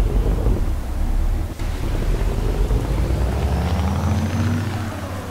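Low, steady truck engine drone with a smooth harmonic hum from a truck in Euro Truck Simulator 2, heard close and continuous with a faint whistle above it and no talking.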